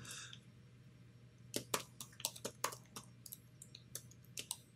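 Typing on a computer keyboard while setting up an Arduino library folder: a faint, quiet run of irregular key clicks, several quick taps in bursts over a steady low hum.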